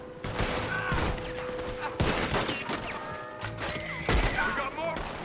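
Shotgun blasts in a Red Dead Redemption 2 gunfight, a few heavy booming shots about a second apart over dense continuous gunfire and chaos, with voices talking throughout.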